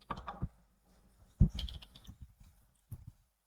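A few quick taps on a computer keyboard entering a one-time passcode into an online form, in short clustered bursts with quiet gaps between, close and fairly faint.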